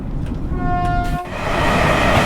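Class 805 Evero train in the video game Train Sim World 6, a loud close rumble with a brief horn tone, then rising rail roar, no talk.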